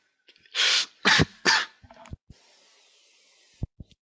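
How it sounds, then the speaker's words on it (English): Three loud harsh coughs in quick succession from one person, followed by a faint hiss and a few small clicks and knocks in an otherwise quiet room. "I'm really sorry for coughing."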